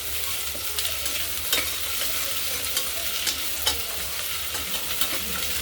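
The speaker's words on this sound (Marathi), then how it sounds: "आता याच्यामध्ये घालू बीन्स, बटाटा आणि बीन्स 1 मिनिटभर परतून घेऊ।" Beans and potato sautéing with golden-fried onion in a pan for a multigrain daliya khichdi, a steady close sizzle with scraping stirs and small clacks of the spoon throughout, no talking.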